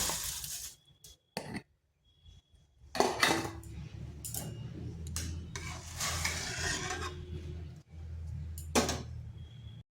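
Dry lentils are tipped into a cooking pot already holding water, turmeric and salt, making scattered clattering and rattling bursts with metal scraping, separated by quiet gaps.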